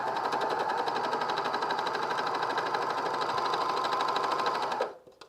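A cover stitch sewing machine runs steadily over a thick fleece seam for a Sierra pullover, a dense continuous whirring motor hum with rapid needle ticking, close and loud, stopping abruptly near the end.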